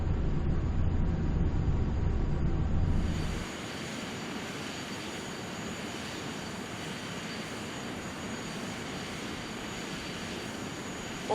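Steady jet airliner engine drone in Flight Simulator X during an approach from Edinburgh to Glasgow, a loud low rumble that eases to a quieter, even broadband hum after a few seconds as thrust is reduced, with no talking.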